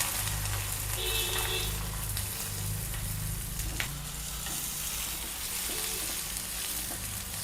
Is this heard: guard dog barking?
no